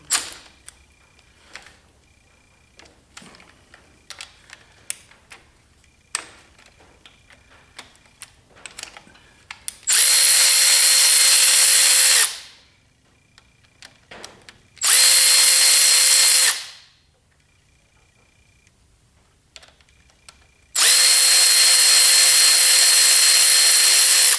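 Loud bursts of a power tool, likely an impact driver or drill, removing timing cover bolts during a small-block Chevy engine teardown, in three sustained runs of a few seconds each separated by quieter clanking and handling noises.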